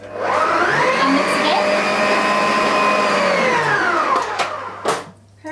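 An electric hand mixer whirs steadily through muffin batter made with self-raising flour and eggs, a loud continuous motor drone that dips briefly near the end before running on.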